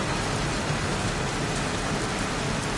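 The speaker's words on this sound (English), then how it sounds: "Jeez, won't this rain ever let up?" Heavy rain in the video game Heavy Rain: a dense, loud, continuous downpour hissing steadily, with a low rumbling undertone like distant thunder and no voices.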